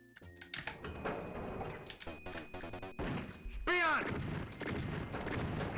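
A shotgun in a video game goes off in a few sharp, loud blasts mixed with clicky mechanical handling sounds. A whooshing, swept effect follows near the end.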